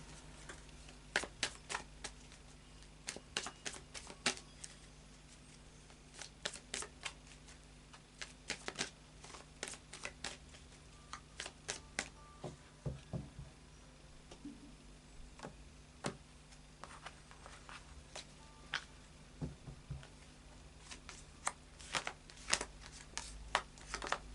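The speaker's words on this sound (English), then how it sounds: "could we clarify all of the cards on the table for Leo, please?" Tarot cards being shuffled and handled on a table: quiet, crisp clicks and riffling taps come in irregular bursts with short pauses between them, and no one speaks.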